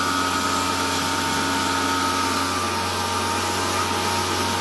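High-pressure washer with a short spray gun set to a fine mist, spraying the condenser coil of an air conditioner; a loud, steady motor drone and hiss of water run continuously without a break.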